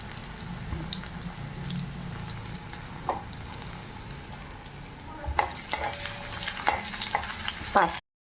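Carrot and chopped ginger fry in a pan for pasta with a soft, even sizzle, joined later by a few clinks and scrapes of a utensil against the pan.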